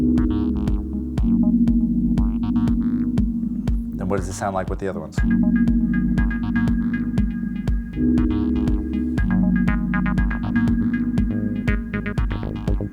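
A looping acid house synth sequence, a 14-step loop within a 2-bar recording, pulses in steady repeating steps, with a voice talking briefly over the pattern near the start.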